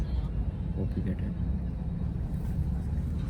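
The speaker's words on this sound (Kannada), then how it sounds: "ಇವಾಗ ಫ್ಲೈಟ್ ಟೇಕ್ ಆಫ್ ಆಗುತ್ತೆ." Airplane engines roar in a steady, heavy low rumble during takeoff, with a voice speaking briefly over the noise.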